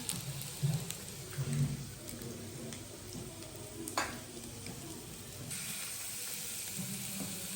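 Vegetables cooking with prawns in a pan, a steady soft sizzle and frying hiss with occasional stirring clinks, close and continuous.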